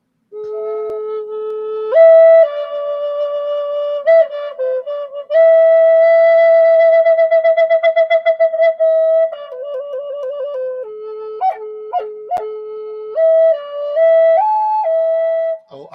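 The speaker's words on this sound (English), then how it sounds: "I'm gonna whistle you out, Rick." Someone whistles a tune on a live show, clear sustained notes with warbling trills and quick short blips, loud and close with no talk over it.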